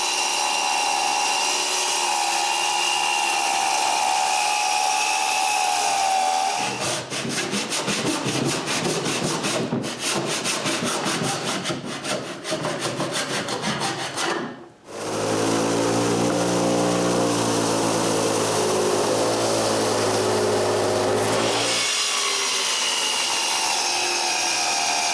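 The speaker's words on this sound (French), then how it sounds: "je place ma scie à onglet à cet angle et je fais les coupes" A miter saw set to a 53.5-degree angle cuts wood pieces for television-lift legs, with loud sustained grinding and rasping, a brief drop, then the motor's whine winding down before more cutting noise.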